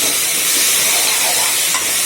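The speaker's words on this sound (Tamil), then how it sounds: "வதங்கட்டும் நல்லா தக்காளி" Tomatoes sautéing in hot oil in a pan for a lentil-dumpling kuzhambu give off a steady, close, continuous sizzle with a fine hiss, no voices over it.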